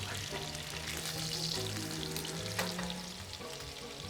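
Steady, close sizzling and crackling of steaks frying in a hot pan, a dense hiss with occasional pops and no talking.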